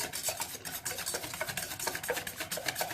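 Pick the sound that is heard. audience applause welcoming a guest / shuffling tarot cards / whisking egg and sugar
whisking egg and sugar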